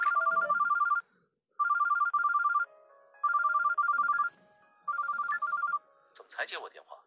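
A phone rings in the mobile game Love and Producer: four clear, evenly spaced bursts of an electronic ringtone, each about a second long with short gaps, followed by a brief voice at the end.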